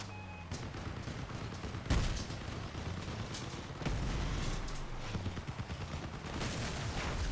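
Vehicle-mounted weapons in the Crossout video game firing in a dense, continuous barrage of overlapping shots and blasts, loud and close, with heavier thumps at intervals.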